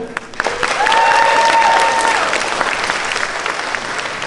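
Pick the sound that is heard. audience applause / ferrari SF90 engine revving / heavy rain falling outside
audience applause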